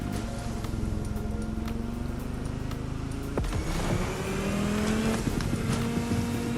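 A car engine in The Crew Motorfest racing game hums steadily, then its pitch shifts after a sharp transient midway, rising into a smoother sustained drone with a faint whine; no talking.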